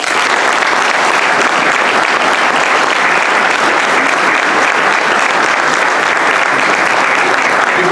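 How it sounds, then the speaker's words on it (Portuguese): Loud, sustained applause from a large crowd for a regional folk dance group, dense and steady clapping filling the whole stretch without pause. "com uma grande salva de palmas, reconhecermos esse grande trabalho do nosso resto regional"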